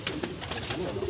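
Young pigeons at the Kerkof bird market in Temanggung coo repeatedly in soft throaty phrases, close up over a busy, noisy market background.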